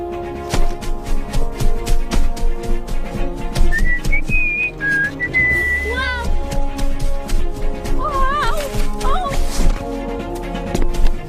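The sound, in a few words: human whistling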